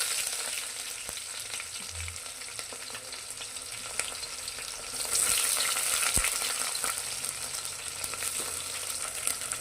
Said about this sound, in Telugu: ఇప్పుడు పచ్చిమిర్చి వేసేసుకుందాం ఆనియన్స్ కూడా వేసేసుకుందామండి